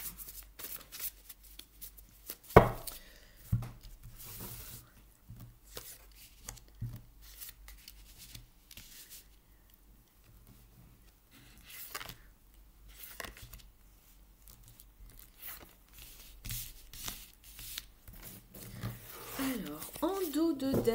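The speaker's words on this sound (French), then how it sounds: "je remélange bien mon jeu pour vous" A deck of tarot cards is shuffled in repeated riffling bursts and soft flicks, scattered across the stretch with a sharp snap early on, while a voice talks intermittently.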